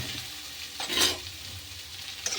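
Vegetables for chow mein noodles frying in a pan over high heat, a soft, steady sizzle with a brief stirring scrape in the middle, quiet and without voices.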